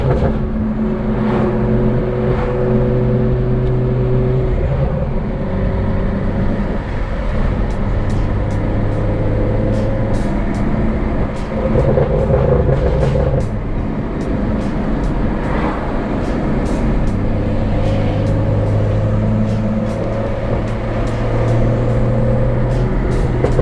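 A BMW M2 running a Thor GTS map drives along, its engine droning loud and close with steady road noise and shifts in pitch as it pulls through the gears.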